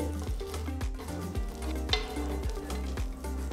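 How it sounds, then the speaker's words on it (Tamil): Butter sizzling on a hot tawa over a stove, a steady close frying hiss punctuated by regular light scraping as it is spread across the pan. "ஒரு தவாவை ஸ்டோவில் வச்சு சூடானதும் கொஞ்சமாக வெண்ணெய் சேர்த்து ஸ்ப்ரெட் பண்ணி"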